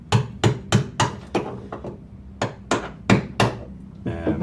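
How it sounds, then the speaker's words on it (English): Sharp metallic taps of a hammer striking a chisel to remove sound deadening from a Ford Sierra XR4x4 during restoration, about a dozen blows in uneven bursts, close and loud with nobody talking. "just hammer and chisel, gently tap, taking away some of the sound deadening"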